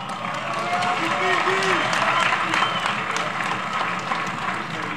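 Dense, steady crowd applause from a large gathering of traders at Kariakoo, Dar es Salaam, sustained at a constant level for the whole stretch, with voices mixed into the crowd noise.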